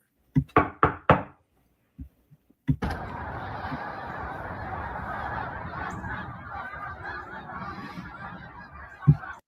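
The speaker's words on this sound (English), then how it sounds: "You talk about a flock of birds." A flock of geese honks outdoors in a loud cluster of calls at the start, followed by a pause with a few faint knocks, then a steady broadband rush of wind or moving air under scattered calls, ending with a sharp thump.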